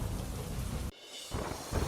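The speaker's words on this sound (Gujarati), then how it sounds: "નાગુના ગામમાં ધોધમાર વરસાદ થયો" Heavy monsoon rain pours down in Naguna village in Jamnagar district, a dense, loud wash of rainfall with a short dip in the middle before the downpour surges back.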